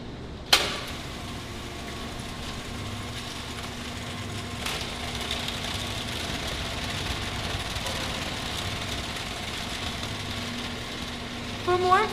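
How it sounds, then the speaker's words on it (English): A SpanTech multi-span chain conveyor accumulation table cycling sample containers, a continuous mechanical rumble and chain clatter with a low steady hum, a sharp knock near the start and light container clinks at the end. "Today we're cycling a SpanTech accumulation table"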